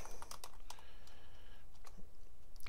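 Rapid keystrokes on a computer keyboard, irregular clicks clustered in short runs over a steady background hiss, close and moderately quiet.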